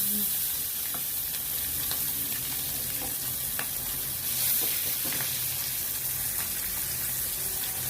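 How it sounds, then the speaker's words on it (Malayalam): Sardines coated with spices and crushed garlic, onion and ginger fry in a pan Kerala style, giving a soft, steady sizzle with faint crackles and occasional stirring. "അടിപൊളിയായിട്ട് നമുക്ക് വറുത്തെടുക്കാം."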